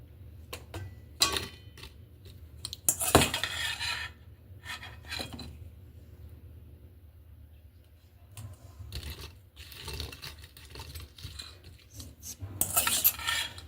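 A metal utensil scoops candied blueberries and other whole fruit out of cooled syrup into a small container, giving scattered clinks and scrapes against the dish in irregular bursts, close and moderately loud, with quiet pauses between.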